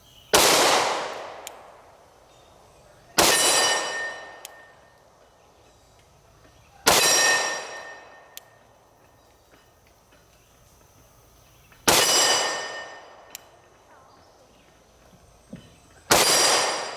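Five loud gunshots from a Kimber Camp Guard 10 pistol, each a sharp crack with a ringing decay, fired at irregular intervals of about three to five seconds with quiet gaps between.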